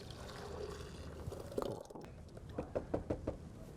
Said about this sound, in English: we're going to pour that back into the blender